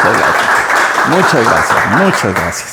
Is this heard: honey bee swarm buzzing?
no